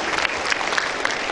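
A steady wash of applause fills a graduation and inauguration ceremony at Politeknik Piksi Ganesha in July 2023. It is dense and even throughout, with no pauses.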